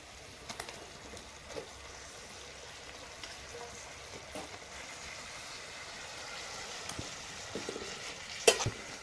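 Crumbled leftover chapati is stir-fried in a pan with a quiet, continuous sizzle and occasional scrapes and taps of a spoon, ending with a sharp clink.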